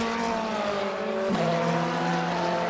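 Ferrari 488 GTE race car engine in the rFactor 2 racing game, a steady, loud, harmonic engine drone holding its pitch through the clip with a brief shift near the middle.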